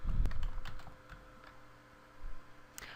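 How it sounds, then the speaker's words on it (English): Typing on a computer keyboard into an accounting program's note field, a few scattered soft keystrokes close up with pauses between bursts, against a quiet background hum and no speech. "simply starting to type after the date and time stamp"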